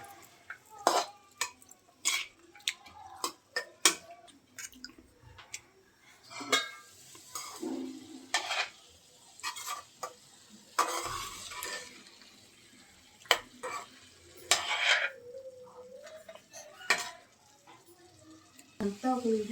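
Ivy gourd pieces sizzle in a pan while a spoon stirs and knocks against the metal in irregular bursts, close by, with a person talking intermittently between the clatter.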